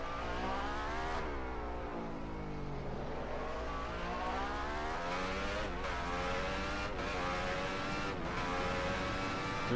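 A 1991 Brabham Formula 1 car's engine, heard onboard around the Monaco street circuit, screams loudly and continuously, its pitch rising and falling through gearshifts, with sharp dips where the driver lifts and downshifts.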